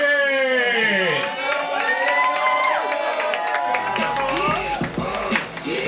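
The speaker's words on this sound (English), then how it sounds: "The crowd and what I presume are the many folks at home showing that they have much support for Tiny Giant." A loud wrestling arena crowd cheers, whoops and claps for the winner of a match, a dense sustained roar throughout with shouting voices over it.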